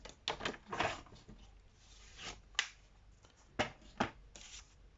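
Paper trimmer arm slicing through Blackberry Bliss cardstock being cut down to size, a series of short crisp swishes and clicks, several quick strokes early then a few isolated sharp snaps, close and fairly quiet.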